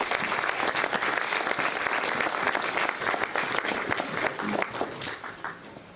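Dense, steady applause from an audience at a 2021 awards ceremony, with crisp individual claps running throughout and easing slightly toward the end, no speech on top.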